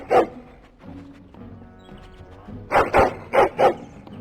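A dog companion barks in Dragon Age: Origins, a soft single bark early on, then four loud, close barks in quick succession near the end over quiet game ambience.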